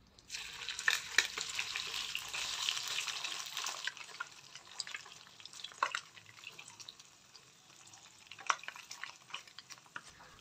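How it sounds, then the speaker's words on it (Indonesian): Tongkol tuna fries in hot oil in a wok, giving a loud, steady sizzle with crackles and spattering pops that ease off partway through, close up with no talking. "Step selanjutnya di sini aku mau goreng ikan tongkolnya."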